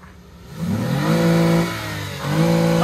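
A car fitted with a 3GR 3000cc petrol engine is revved twice in a garage, each throttle blip climbing in pitch and holding loud and close before easing back, with no talking.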